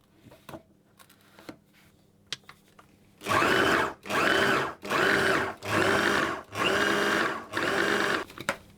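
A food processor pulses pastry dough into crumbs for an apple, pear and hazelnut pie, giving six loud, even motor bursts about a second each with short pauses between, after a quiet stretch of faint kitchen clatter.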